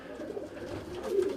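Misa breed pigeons give a low, steady cooing drone close by, a short continuous murmur without speech.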